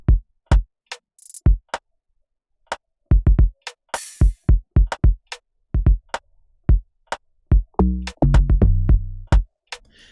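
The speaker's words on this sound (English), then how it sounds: "So this is what the drums sound like." A sparse, simple drum pattern made in FL Studio of isolated kick and snare hits with a clap or two, ending in a denser run of hits with a low booming tail.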